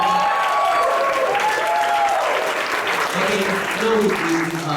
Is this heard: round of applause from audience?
yes